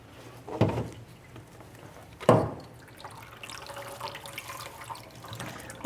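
Tap water runs into a container to make fertilizer water for houseplants, in two strong gushing bursts followed by a quieter steady trickle and splashing, close by with no talk.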